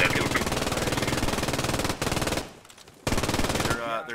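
Machine gun fire rattles in a military video game, rapid evenly spaced rounds in long loud sustained bursts, with a brief lull before firing resumes, then fades into a softer tail.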